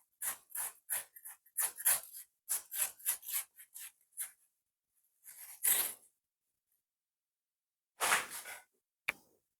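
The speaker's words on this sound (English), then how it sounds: "So I'm just using the knife, soften it up a bit" A knife works through a watermelon in a run of short, rhythmic scraping and rubbing strokes close by, then pauses before a few longer, louder cuts and a final sharp tap. Nobody talks.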